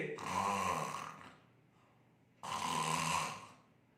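Two long snore-like rasps, imitated by a voice, each about a second with a quiet pause between, loud and close.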